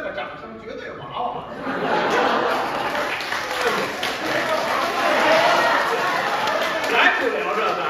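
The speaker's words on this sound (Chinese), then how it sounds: "你听那个掌声绝对娃娃" A crosstalk show audience at a Tianqiao matinee breaks into sustained clapping and laughter, swelling after the first couple of seconds and holding loud and dense to the end.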